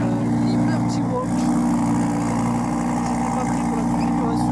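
A Lamborghini Huracan with a Liberty Walk body kit runs its engine in a loud, steady, dense drone that holds without a break from start to finish.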